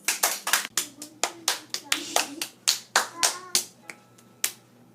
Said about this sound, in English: Let's give these both two fantastic authors a warm round of applause.